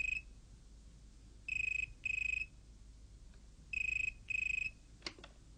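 A telephone rings in two double bursts of electronic trilling, fairly quiet and alone, followed by a soft clatter as the receiver is picked up.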